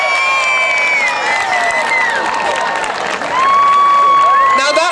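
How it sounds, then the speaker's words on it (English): Crowd at a village rose queen fancy-dress contest cheering and applauding a child's fly costume, a loud continuous roar with whoops and shouts, steady throughout and swelling slightly near the end. "A big, big round of applause for that, I think."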